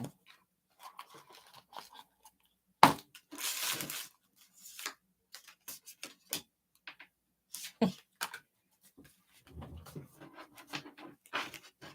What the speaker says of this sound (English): I have to shuffle.